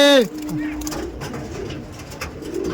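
Tournament-quality pigeons coo at a pigeon seller's in Ultadanga, starting with one loud, close, gliding coo and followed by softer scattered coos and flutter against a busy background.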